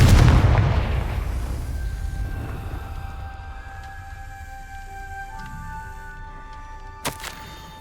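A Confringo blasting spell explodes in the Hogwarts Legacy video game, a loud booming blast that rumbles and slowly fades, followed by faint ringing tones and a sharp crack near the end.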